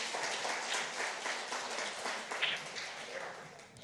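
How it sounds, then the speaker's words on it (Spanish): A church congregation applauds during a Spanish-language service, producing a broad, continuous wash of clapping at moderate volume that swells and thins slightly, with a brief brighter accent near the end. "denle un aplauso al Señor, por favor"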